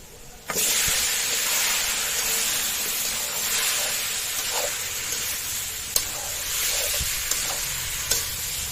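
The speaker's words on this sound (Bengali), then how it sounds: "লাউ আর আলু খুব ভালোভাবে কষিয়ে নিব।" Bottle gourd and potato fry with spices in a pan for a hilsa curry. A loud, steady sizzle and hiss starts abruptly, with occasional sharp stirring clicks against the pan.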